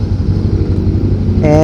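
Loud, close FKM 500 motorcycle engine on a test ride, a steady low throbbing drone that rises slightly in pitch near the end as it revs.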